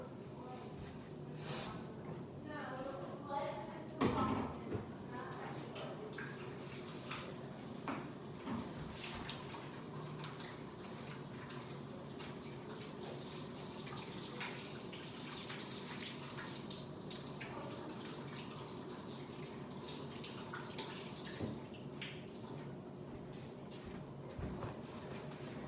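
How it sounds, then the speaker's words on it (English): Tap water runs steadily into a sink as hands are scrubbed with soap while sleeves are rolled up, a continuous moderate splashing with small shifts in flow over the whole stretch, while a voice talks over it at times. "Step one, wash your hands after rolling up your sleeves"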